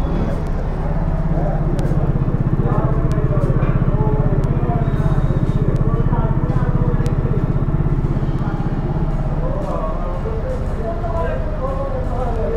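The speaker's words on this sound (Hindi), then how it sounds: "तो बाइक को ज़रा स्टार्ट करते हैं।" A 2020 Yamaha FZS BS6 motorcycle runs at idle with a steady, close low engine putter and fine rapid pulsing throughout, while someone talks over it.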